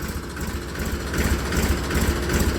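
A tractor engine warming up runs with a steady, low idling rumble that swells slightly partway through, close by and continuous with no talking.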